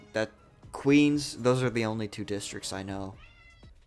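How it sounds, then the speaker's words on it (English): A cat meows several times in quick, drawn-out cries, close and clear, overlapping with someone talking over it. "You hear that? That's a cat."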